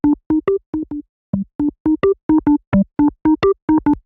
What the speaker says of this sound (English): Now the reason why I chose this distortion is because it adds a lot of harmonics into the sound